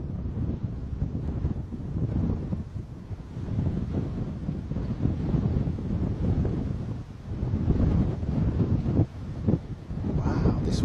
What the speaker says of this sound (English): Wow, this wind is most unexpected.